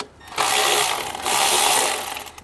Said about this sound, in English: So we're going to undo this bolt right here.